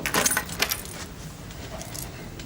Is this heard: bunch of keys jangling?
yes